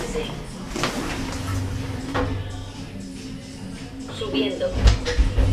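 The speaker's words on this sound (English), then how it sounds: "Doors closing." Lift doors in a Valencia building slide shut with a short rumbling glide and soft clunks, close by over a steady mechanical hum, ending in a heavier thud.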